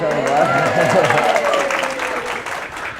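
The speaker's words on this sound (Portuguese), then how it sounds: "Salva de palmas pra ela" An audience applauds, a dense, steady patter of clapping with a voice speaking over it at the start.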